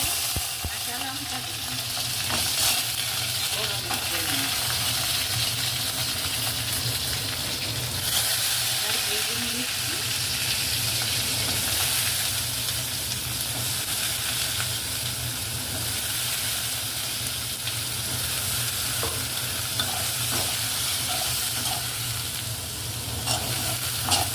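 Fenugreek leaves fry and get stirred in a pan for a brinjal dish, a steady sizzling hiss with scraping stirs running through, close and continuous.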